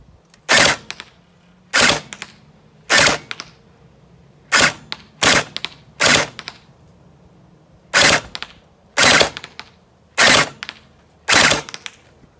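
A JM SCAR V2 toy gel blaster fires on full auto in about ten short, sharp rattling bursts separated by brief pauses, loud and close with no talk.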